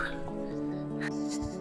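A frightened dog on a narrow village shortcut path in Uttarakhand lets out a faint, drawn-out whining whimper, heard under a low background hum.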